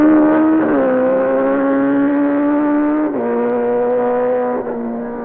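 Bob McIntyre's racing motorcycle passes at speed during the 1957 Isle of Man races: a loud, steady engine drone whose pitch drops at gear changes, captured on an old archive broadcast recording.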